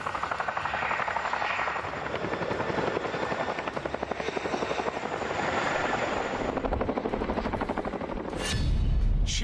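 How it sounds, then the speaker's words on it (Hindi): A Chinook helicopter carrying soldiers thumps steadily with rapid rotor beats and loud turbine roar, close and continuous throughout, swelling slightly toward the end. "चिनूक हेलीकॉप्टर पर सैनिक सवार हो रहे हैं।"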